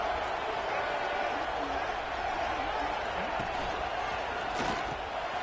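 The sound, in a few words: stadium crowd noise at a football game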